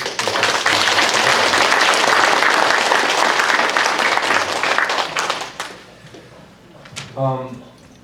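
Congregation applause at a church service, dense sustained clapping from a large group for about five seconds, then fading as a voice speaks briefly near the end.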